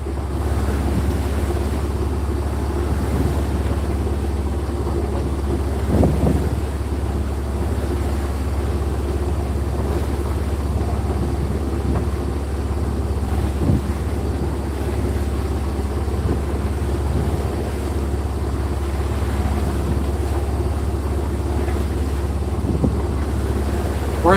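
A sailboat under way off Kalibiru in Raja Ampat, Indonesia, with steady wind rushing across the microphone and waves washing against the hull in a constant, loud wash that runs throughout.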